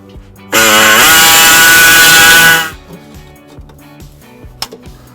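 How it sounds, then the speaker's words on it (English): An air saw cuts into a 2018 Subaru Legacy car frame to enlarge an access hole, a loud, steady high-pitched buzzing whine lasting about two seconds, then stopping abruptly, followed by faint clinks. "We're going to use an air saw to expand the hole."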